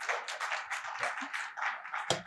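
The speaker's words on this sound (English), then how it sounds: "a round of applause for that." A conference audience claps at a talk on automotive manufacturing, a steady patter of many hands at moderate volume that runs through the whole moment, with no talking over it.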